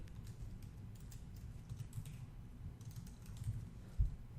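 Quiet, steady typing on a computer keyboard, a run of soft rapid key clicks close by with one slightly louder tap near the end.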